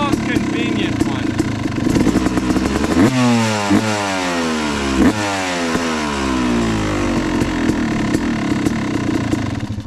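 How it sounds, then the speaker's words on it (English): A two-stroke motorcycle engine revs loudly and close, its pitch sweeping up and down repeatedly in sharp, crackling bursts over a steady buzzing idle. "Definitely the crispiest two-stroke I've ever owned."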